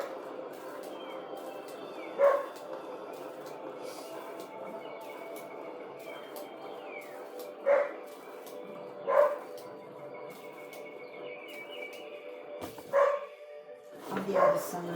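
A dog barks in short, separate bursts, five or six spaced several seconds apart over steady low background noise during an indoor funnel-pour fluid art painting session.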